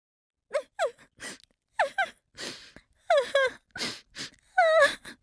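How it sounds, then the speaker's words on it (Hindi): A woman wails and sobs in short, rising cries separated by gasps and breaths, close and fairly loud, with no words. "अचानक उसे बहुत हल्की सी फुसफुसाहट सुनाई दी, किसी औरत के रोने की आवाज।"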